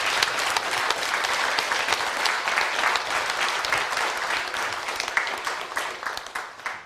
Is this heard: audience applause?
yes